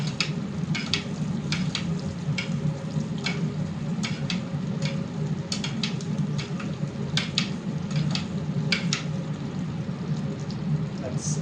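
Fish skin fries in a pan of butter with garlic and thyme, giving a steady, close sizzle with scattered crackling pops throughout, under a constant low kitchen hum.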